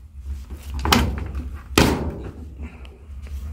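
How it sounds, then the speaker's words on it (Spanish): Door of an Electrolux washing machine being pushed shut, giving two close, dull thunks about a second apart, with quiet room hum between them. "Dice que cierre la puerta."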